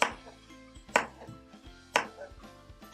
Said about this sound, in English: this also is going to be diced in a technique very similar to the onion